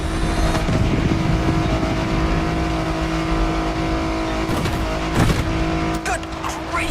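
A car in the racing video game The Crew Motorfest drives flat out, its engine droning loudly and steadily with rising and falling revs and a few sharp bumps and clatters.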